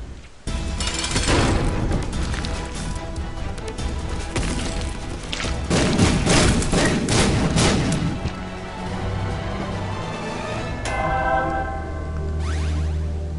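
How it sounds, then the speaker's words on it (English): Bombs dropped by a tower item in The Binding of Isaac burst in a rapid chaotic series of loud crashing booms and smashing hits, densest in the middle, then thinning to scattered blasts amid game music. "looks like the tower just drops a whole bunch of bombs"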